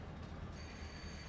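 A freight train rolls in within Farming Simulator 22, a faint, steady rumble of wagons with a thin metallic squeal creeping in partway through.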